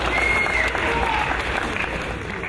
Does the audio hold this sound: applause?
yes